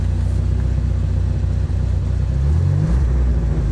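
Idling car with a 2.2-litre turbo engine revs up, a steady low rumble climbing in pitch toward the end, close and loud with no talking.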